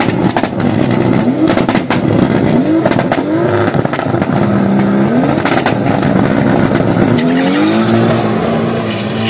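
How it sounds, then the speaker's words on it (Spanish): A Nissan Silvia with a JZ engine launches a drag test run at a racetrack in Quilpué, its loud engine revving and rising through gears with tire squeal, heard close and without speech. "una Silvia JZ a punto de largar un pique de prueba."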